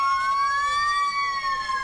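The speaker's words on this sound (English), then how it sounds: "There's a fire truck coming through." A fire truck siren wails loud and close as the emergency vehicle passes through a winter evening holiday parade, its steady high tone sliding slightly in pitch.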